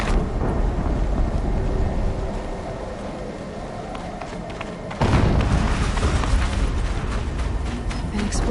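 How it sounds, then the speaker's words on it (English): A video game explosion in Horizon Zero Dawn hits as a sudden loud, broad boom that leaves a dense rumbling wash behind it. It follows a stretch of quieter ambient game rumble, and no one speaks over it. "explosion."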